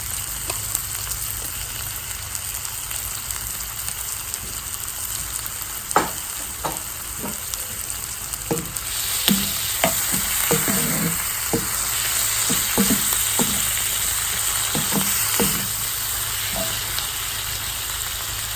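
Tomatoes and vegetables sizzle steadily in a hot pan with T-bone steak, seasoned with a rub, as a spoon stirs and scrapes in irregular taps over the constant frying hiss, growing louder partway through.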